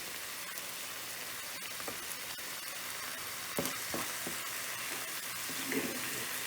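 Chopped garlic fries with salt and pepper in a pan of tomatoes and onions, a continuous crackling sizzle broken by occasional stirring clinks and scrapes, heard up close with no talk.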